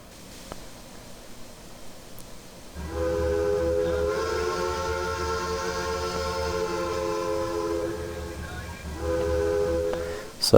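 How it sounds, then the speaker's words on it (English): Tuned steam whistle of a Union Pacific TTT-6 2-10-2 locomotive in Trainz 2019, a loud chordal blast held for about six seconds, then a short second toot, over faint background rumble. "that is the whistle for this set, and it is a tuned whistle"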